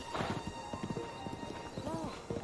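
Horse hooves clip-clop across a tight, narrow bridge in the video game Breath of the Wild, a quick run of light, even hoofbeats under a voice.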